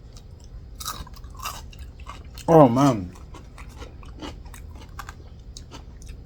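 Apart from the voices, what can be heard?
crunchy cucumber being chewed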